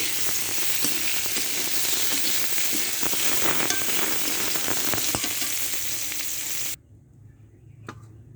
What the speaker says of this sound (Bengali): সয়াবিন বড়িগুলো ভেজে নেব।